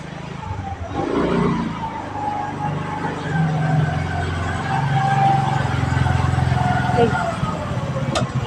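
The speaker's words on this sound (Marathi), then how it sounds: "तर आली गाडी" A vehicle pulls up near a home, its steady engine rumble and drone rising after a second and holding at moderate loudness beneath people talking.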